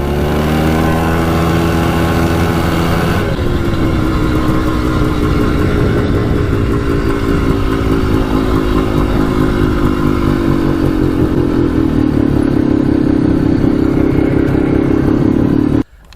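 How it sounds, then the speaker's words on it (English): A 2001 Polaris Trailblazer 250 2x4 quad with a freshly installed top-end piston and cylinder kit runs steadily and close, its engine note rising and settling through the ride and ending abruptly, no voices. "just got back from the first ride on the 2001 Polaris Trailblazer 250 2x4"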